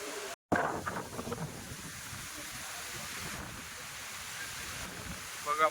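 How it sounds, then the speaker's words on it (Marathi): Wind blows steadily through a coconut grove on a seaside picnic at Murud Janjira, a continuous broadband rush with gusty swells, briefly cut by a dropout near the start. "वारा वाहतो."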